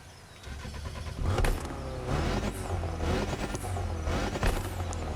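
A stock Ford Focus RS engine in The Crew Motorfest racing game revs and roars with repeated surges and a whooshing, gear-change rhythm, mixed with game noise at moderate level and no talking.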